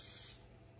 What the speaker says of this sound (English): put the spray on there.